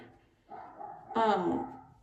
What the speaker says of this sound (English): My dog is barking so loud.